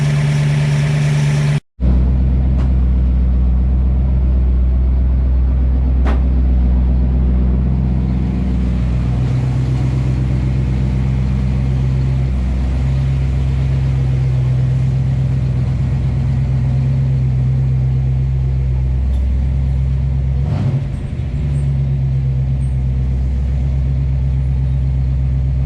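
A 1967 Ford Mustang Fastback V8 idles steadily and loudly up close, a deep, even rumble with faint lifter ticking, running alone with no talk over it.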